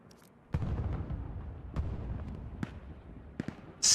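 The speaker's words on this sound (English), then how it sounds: "Secondary bombing run coming in for the Axis, or for the Allies, by Commander AJ Gray" A bombing run in a World War II-style video game match between the Axis and the Allies brings a series of deep, rumbling explosions at irregular intervals, some distant and some closer, with no talking.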